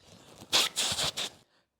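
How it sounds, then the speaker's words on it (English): Someone blows their nose close by in one short, forceful, breathy burst lasting under a second, then silence. "I'm blowing my nose."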